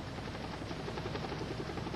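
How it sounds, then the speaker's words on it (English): An Air Life medical helicopter flies overhead with a steady, rapid rotor thump and engine whine, moderately distant and continuous, with no talking. "Two-year-old Stephen was transported by Air Life helicopter to Porter Memorial Hospital in a coma."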